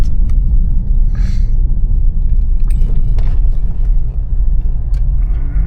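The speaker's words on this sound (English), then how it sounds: "And there comes a truck." A truck drives past on a rural farm road near Montagu, South Africa, a loud, continuous low engine rumble that dominates throughout with a few faint rattles on top.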